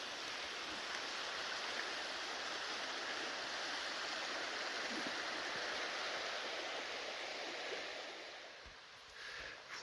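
Cold creek water with slushy ice forming on its bottom flows in a steady, broad rush, fairly faint and continuous, easing slightly near the end.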